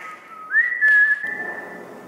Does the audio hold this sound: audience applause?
no